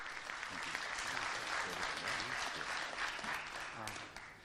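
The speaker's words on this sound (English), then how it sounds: "So please give them a round of applause for their help." Applause from a conference audience at a network operators' meeting's closing session, sustained dense clapping throughout, fading slightly at the end, with faint voices beneath.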